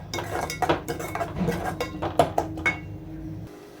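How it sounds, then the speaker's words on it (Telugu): A metal spoon stirs tomato masala with added garam masala in a cooking pan, giving close, busy clinks and scrapes against the metal for about three seconds before stopping abruptly. "కొంచెం గరం మసాలా వేసుకొని వీటన్నిటిని బాగా కలుపుకోవాలి"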